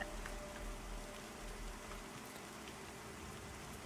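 Rain in the video game Pantheon, a soft, steady hiss of falling rain at low volume, continuous and even throughout with no voices.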